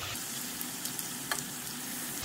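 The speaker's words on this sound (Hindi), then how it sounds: "अब हम सब्जियों को शैलो फ्राई करेंगे। आलू सबसे ज़्यादा समय लेगा, इसलिए हम सबसे पहले आलू को डाल देंगे।" Potatoes shallow frying in a pan for a dhaba-style mixed vegetable sabji, a steady soft sizzle with faint crackles and pops throughout, no talk.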